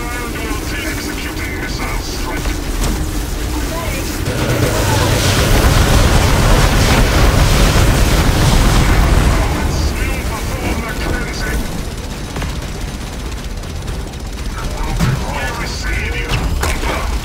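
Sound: missile strike explosions in Warhammer video game

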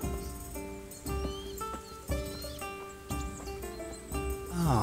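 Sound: horse neighing and hooves in Kingdom Come: Deliverance video game

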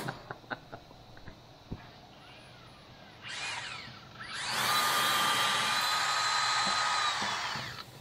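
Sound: drill bit drilling out aluminium

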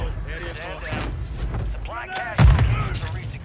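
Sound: grenade explosion in Call of Duty Warzone video game

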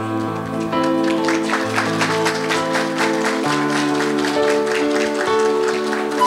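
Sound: guests applauding the parents at a baptism

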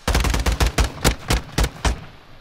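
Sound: gunfire in the video game Call of Duty

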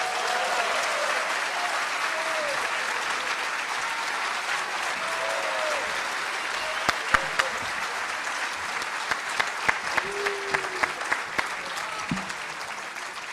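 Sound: audience applause

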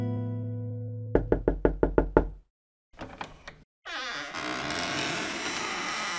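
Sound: knocking on a door

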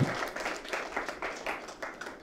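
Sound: children's audience clapping

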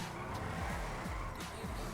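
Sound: car tires skidding while drifting in GTA Online video game

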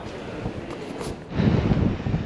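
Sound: strong wind in London street

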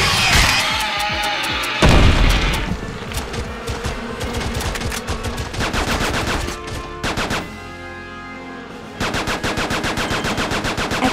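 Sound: rapid gunfire in video game Attack of the Movies 3D

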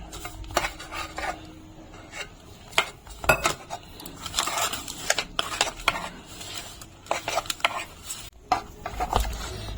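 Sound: kneading besan dough with water by hand

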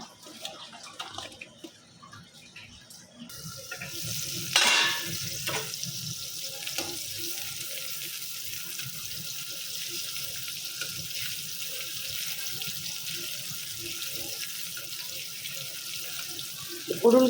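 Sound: washing hilsa fish under running tap water

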